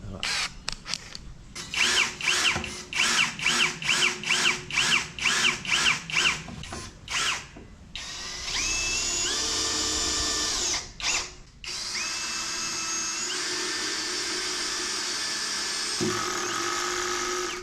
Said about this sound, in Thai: หมดการเจาะเมื่อสักครู่นี้ก็คือการเจาะไม้ก่อนแล้วก็ ตามด้วยยึดสกู